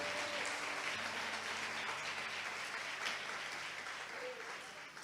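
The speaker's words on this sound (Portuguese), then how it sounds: "Você pode aplaudir ao Senhor pela sua palavra agora?" Sustained, dense applause from a church congregation during a women's worship service, a steady wash of many hands clapping at even loudness throughout, with faint voices mixed in.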